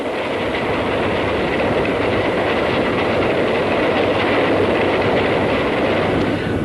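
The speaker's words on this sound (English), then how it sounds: "Just coming in beside me live here at York now. This is On Time. It's a high-speed train set off from Newcastle" A high-speed train from Newcastle rolls into York station, a loud, steady roar of wheels and carriages with rhythmic clickety-clack running close by without a break.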